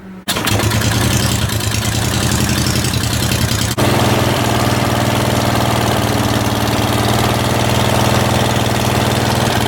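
A riding lawn mower engine fitted with a modified exhaust cranks and catches, then runs at a loud, steady, throbbing idle close by with no talk over it.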